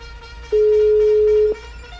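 A telephone busy signal during an attempted call to a radio sports program, one loud steady tone lasting about a second, standing clearly above a low background hum.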